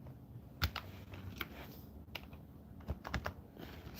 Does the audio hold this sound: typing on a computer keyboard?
yes